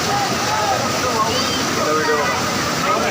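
Rushing floodwater pours steadily during a cloudburst at Raigad fort, a continuous loud wash with voices talking over it.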